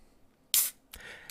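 A can of non-alcoholic drink is cracked open, giving a sharp, hissing pop followed by a shorter fizzing burst, close and fairly loud against a quiet room.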